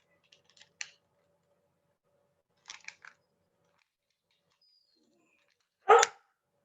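A dog barks three short times in an otherwise quiet room, the first two bursts small and clipped, the last one louder and fuller.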